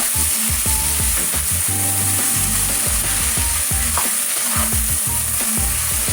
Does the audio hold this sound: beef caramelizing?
yes